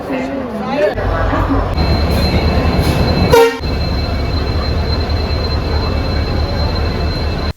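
A loud, steady rumble of a train fills a busy station, a horn cuts in briefly, and a voice talks over the noise at the start.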